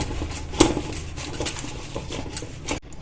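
A spoon stirs garlic butter and pizza herbs together in a bowl, giving quick scraping clinks and taps against the sides, one sharper knock near the start, then steady close-up mixing that stops abruptly at the end.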